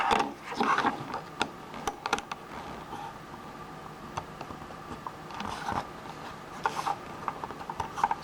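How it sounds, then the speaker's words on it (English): An old Toyota remote key shell being pried apart with a small screwdriver, giving scraping, rubbing plastic rasps and sharp creaking clicks in an irregular run, close and fairly loud, with no talk. "Go ahead and open it up. And we'll take apart the old one."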